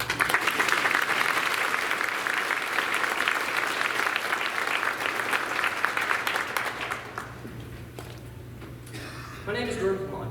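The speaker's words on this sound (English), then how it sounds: "have a round of applause." Audience applauding a graduating class of 2022 at a Maine Central Institute senior chapel: a loud, dense wash of clapping that fades after about seven seconds, leaving quieter room noise and a few scattered sounds.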